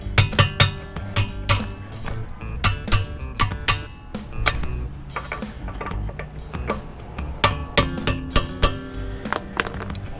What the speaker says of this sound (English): You know, it's bad when you gotta hammer the lug on.